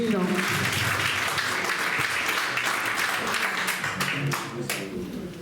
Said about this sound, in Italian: Un applauso a Gavino.